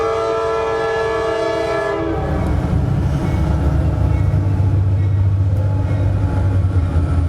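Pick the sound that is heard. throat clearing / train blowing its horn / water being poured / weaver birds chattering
train blowing its horn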